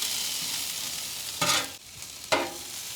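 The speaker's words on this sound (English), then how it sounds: "Put the onions into the fat." Onions fry in beef tallow with a loud, even sizzling hiss, broken by two bursts of scraping and stirring about a second apart, up close and with no voices.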